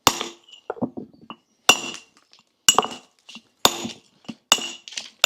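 Hammer blows on a chisel dressing a reclaimed walling stone: five sharp metallic strikes spaced about a second apart, each with a bright ringing clink, with softer scraping and tapping between them.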